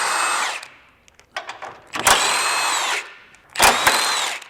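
An impact tool spins off 17 millimeter subframe bolts on a 2017-25 Honda Ridgeline during a lift kit install, in three loud close bursts of buzzing rattle separated by short pauses.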